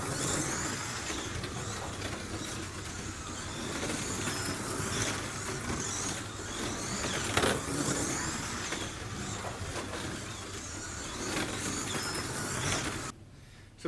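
Scalextric C3719 Aston Martin slot car lapping a plastic track with trued tyres and changed brakes, a steady whirring motor drone that rises and falls slightly as it circuits, close and continuous before cutting off abruptly near the end.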